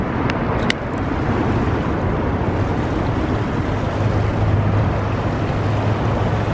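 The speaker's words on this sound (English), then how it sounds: "There it is. The LA River, guys." Steady, broadband rushing wash of water flowing along the concrete Los Angeles River channel, loud and continuous throughout with faint wind buffeting and no voices.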